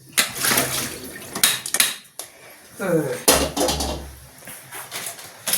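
Metal pans clatter and clank in bursts while people talk over them, with a low hum underneath.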